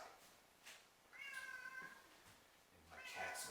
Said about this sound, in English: my cat's going to be coming in, meowing his head off here.